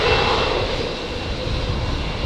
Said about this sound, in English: Just the 936, runway 19 left, clear for takeoff